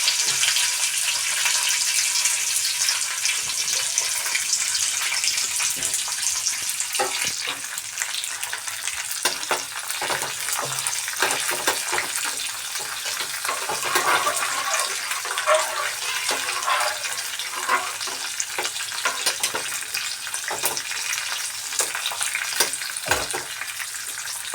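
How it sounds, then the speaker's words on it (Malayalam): Cashews and raisins fry in a pan for ada pradhaman and are stirred, giving a continuous bright, hissing sizzle with scattered crackles and scraping stir noises, steady and close, with no talking. "നമ്മൾ കഴുകി വാരി എടുത്ത മുന്തിരിങ്ങയും കൂടെ ഇട്ട് കൊടുക്കും. നമുക്കിതൊന്ന് ഇളക്കി കൊടുക്കാം."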